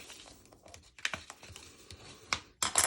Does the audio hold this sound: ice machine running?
no